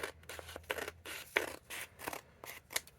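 Scissors snip through paper for a papercraft project, a quick run of crisp, close cuts with irregular rhythm and small scraping rustles between strokes, no voice over them.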